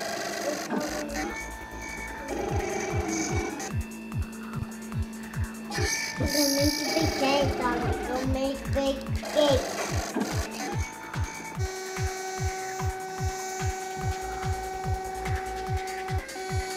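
A QU-BD Two Up 3D printer runs with rhythmic stepper-motor whirs and repeated mechanical pulses, steady and close, with faint background tones.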